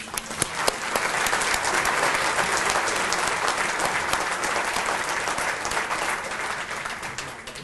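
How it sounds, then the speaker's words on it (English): Chamber of commerce luncheon crowd applauding honored members, a few sharp early claps swelling into a sustained, dense round of applause that tapers gently near the end. "Let's give these members a round of applause."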